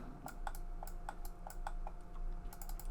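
Quiet, close keyboard key presses, a dozen or so light clicks in an irregular rhythm, ending in a quick burst of typing.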